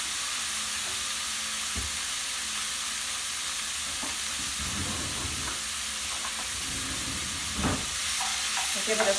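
Crumbled tofu fries in a pan with a steady bright sizzle while a utensil stirs and scrapes through it in a few soft bursts, close and continuous.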